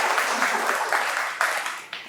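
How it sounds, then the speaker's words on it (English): A short burst of clapping from a business conference audience, fading slightly with a few louder claps near the end. "round of applause for Kelvin, please."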